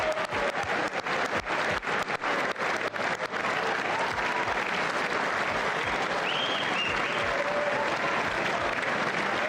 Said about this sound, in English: Sounds like a lot of Democrats are cheering too.